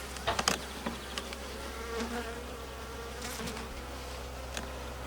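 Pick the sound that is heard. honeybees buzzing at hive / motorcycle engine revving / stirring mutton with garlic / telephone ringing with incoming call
honeybees buzzing at hive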